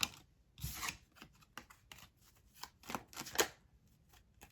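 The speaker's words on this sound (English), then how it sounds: "Let me shuffle better." Cards riffled and bridged several times in quick bursts, crisp papery fluttering close by with brief pauses between shuffles.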